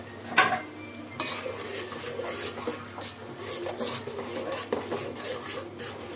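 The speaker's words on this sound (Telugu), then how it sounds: "ఇప్పుడు పట్టుకున్న టమాటా ప్యూరీ పోసుకోవాలి పచ్చివాసన పోయిన దాకా కలుపుకోవాలి" A spoon scrapes and stirs tomato puree with softened onions in a pan, giving a steady run of close, rhythmic scraping and light clinking that goes on without speech.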